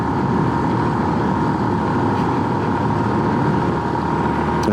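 A Honda Super Cub motorcycle putters steadily through town, its small engine droning continuously at close range with even, unbroken loudness and no voices.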